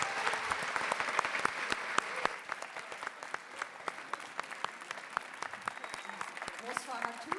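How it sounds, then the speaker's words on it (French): An audience at a Radio France evening event claps in a sustained round of applause, the crisp claps dense and lively throughout, with a faint voice surfacing near the end. "Merci de les applaudir."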